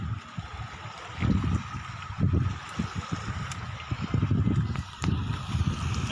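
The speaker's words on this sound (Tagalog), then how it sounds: "Medyo mahangin eh, kaya medyo may kunting alon." Small waves lap and splash in gusty wind off the sea at Cabadbaran City, with irregular low surges and steady wind rumble throughout, fairly close and moderately loud.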